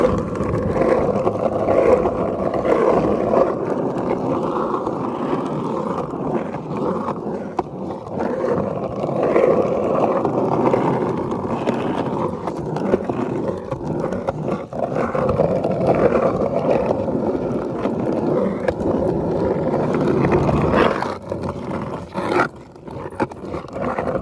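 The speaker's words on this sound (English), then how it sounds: "just cruise around on the soft slider Spitfire wheels and see how they feel on this type of pavement" A skateboard on Spitfire 93a soft slider wheels rolls over pavement for over twenty seconds, giving a loud, continuous gritty rumble with small bumps and a few sharper knocks near the end.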